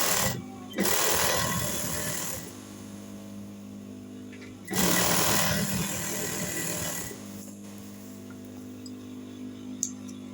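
Sewing machine stitching blouse fabric, running in two sustained whirring bursts of about two seconds each, with a softer steady hum and clicks in between.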